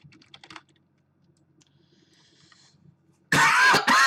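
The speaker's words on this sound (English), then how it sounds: "Sorry about the coughing, guys." A close cough bursts out loudly at the end, a few harsh hacks after a stretch of soft keyboard typing and faint background noise.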